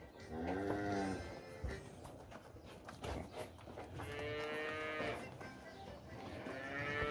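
Dairy cows in a corral in Itaíba, Pernambuco, low in pitch, the bellows coming one after another, several long, drawn-out moos close by, with farm ambience between them and no talking.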